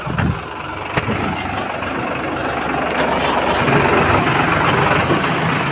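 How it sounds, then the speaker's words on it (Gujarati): A steady, low engine rumble idles throughout, with a couple of sharp knocks near the start and no voices. "એક ટ્રેક્ટર આવી ગયું"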